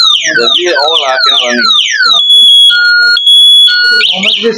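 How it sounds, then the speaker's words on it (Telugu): An electric moped's anti-theft alarm blares a steady run of shrill electronic siren tones for about two seconds, briefly pausing between bursts, right after someone talks close by. "లాక్ చేస్తే మన అలారం అన్నమాట."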